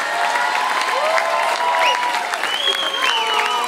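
Applause from a school concert audience honoring high school students performing with a school orchestra, loud steady clapping mixed with voices and excited shouts.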